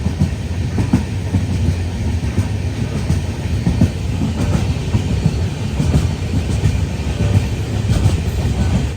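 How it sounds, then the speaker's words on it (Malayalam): A passenger train rumbles into Muzaffarnagar railway station with low, continuous wheel and carriage noise and faint rhythmic clatter, loud and close, with no voices. "ട്രെയിൻ ഇപ്പം മുസാഫർ നഗർ റെയിൽവേ സ്റ്റേഷനിൽ എത്തിയിരിക്കുകയാണ്"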